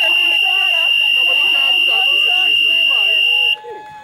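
A basketball game clock buzzer sounds as a loud, steady electronic tone for about three and a half seconds and then cuts off abruptly, while voices chatter under it.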